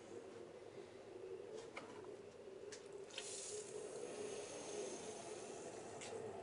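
A steady hiss of water running and trickling into a car's coolant degas bottle during a coolant system flush continues throughout, with a few faint clicks and no talking.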